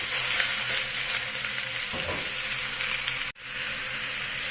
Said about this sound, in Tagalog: i-fry lang natin yan hanggang sa maging brown yung kulay ng ating karne